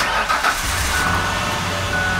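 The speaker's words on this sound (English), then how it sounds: "Moment of truth, does it start?" A truck built from duct tape cranks over and its engine catches, then settles into a loud, steady running rumble close by.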